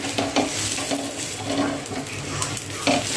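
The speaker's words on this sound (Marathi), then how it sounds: "त्यालाही आपण सेम याच्याने असं चांगलं तेल सोडूया आणि पराठा सोडूया" An onion paratha of wheat flour fries in oil on a flat pan, giving a dense, even sizzle close by, with faint occasional taps as the bread is moved.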